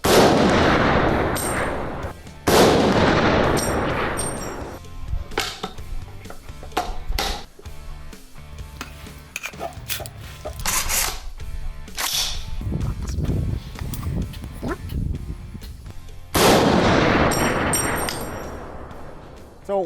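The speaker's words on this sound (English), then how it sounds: "let's set the gas to the middle of the 3 settings, setting number 2, and fire 3 rounds per cartridge" Ruger SFAR semi-automatic rifle with the gas set to its middle setting, firing loud sharp outdoor shots in short groups with pauses between strings, plus lighter mechanical clicks and handling noises.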